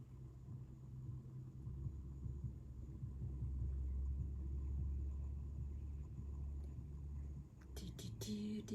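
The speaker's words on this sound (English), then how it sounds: "Oh, there's another car." A car passes on a snowy road during a snowstorm, a low rumbling swell that builds, holds, then fades, heard faintly from a distance with no voices.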